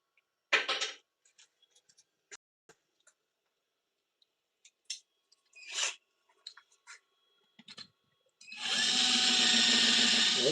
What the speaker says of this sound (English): Let me drill out that hole a little bit, see if that makes a difference here.